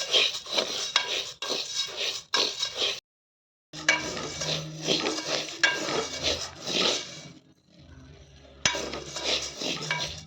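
Urad dal being roasted in a pan for sunnundalu, with scraping and stirring of the spatula against the metal in repeated bursts, brief pauses, and a faint sizzle.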